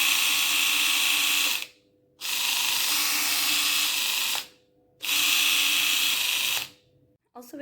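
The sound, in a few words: electric epilator running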